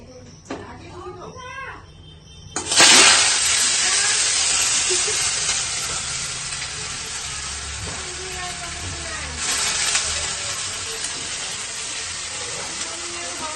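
Potatoes drop into hot oil and a loud, steady sizzle erupts, hissing on for several seconds with a brief surge partway through; a voice speaks faintly before.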